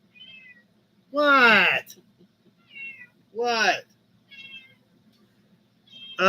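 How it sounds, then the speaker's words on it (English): A house cat meows loudly twice, close by, with a softer third meow at the end, while people chat on a live talk stream. "the cat absolutely wants in on the conversation"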